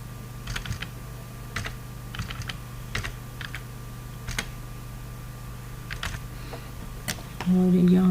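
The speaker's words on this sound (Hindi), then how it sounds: "इस तरह से टाइप कर लें, बिल नंबर भी, ठीक है, डेट टाइप कर लें" Typing on a computer keyboard while entering invoice details in Excel: irregular, fairly close key clicks in short bursts over a steady low hum, with a voice speaking at times.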